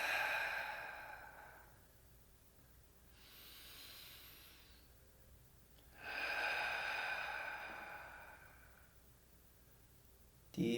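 Slow, deep breaths in guided meditation: long airy exhales, each lasting a couple of seconds, separated by softer inhales, close to the microphone with no talking.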